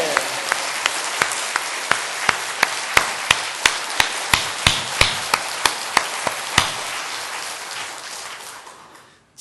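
A church congregation claps in steady unison, about three sharp claps per second over a soft wash of sound, then stops abruptly.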